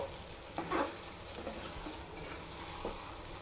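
Fried potatoes are stirred into egg biryani masala in a pan, giving a soft, steady sizzle broken by a few brief scraping stirs; quiet and without talk.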